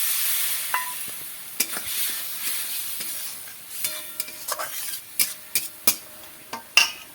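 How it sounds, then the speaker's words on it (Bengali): Spiced masala paste, with chopped tomatoes and a little water added, frying and being stirred in a pan for a village-style cabbage and fish-oil dish: a soft steady sizzle broken by repeated scraping strokes and sharp utensil clacks against the pan. "কষার জন্য মশলাটা আমি একটু জল দিয়ে দেবো।"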